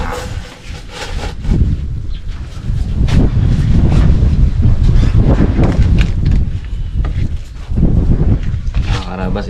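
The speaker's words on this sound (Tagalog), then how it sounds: "malakas ang hangin" Strong wind buffets the microphone outdoors during a cooking session with butter, a continuous low rumbling roar that swells and dips throughout, with people talking underneath.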